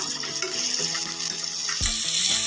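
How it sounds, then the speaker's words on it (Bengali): Onion, ginger and garlic paste frying in a pan, a loud continuous hissing sizzle with faint scraping, brightening sharply near the end as more goes into the hot oil. "মশলাটা ভালো করে কষিয়ে নেব।"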